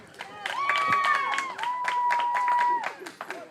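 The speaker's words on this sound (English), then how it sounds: "an enthusiastic Cedartown crowd cheering on the Bulldogs here" A Cedartown crowd cheers at a varsity baseball game between the Cedartown Bulldogs and Pickens Dragons, with scattered clapping, shouts and sustained whistles from a moderately distant stand.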